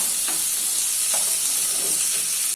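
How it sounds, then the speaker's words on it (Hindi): Chopped tomatoes being stirred into a pan of butter chicken masala, giving a steady loud sizzle and hiss with a few soft scraping strokes of the spoon, no voices. "अभी इसमें कटे हुए टमाटर ऐड कर देते हैं और मिक्स कर लेते हैं।"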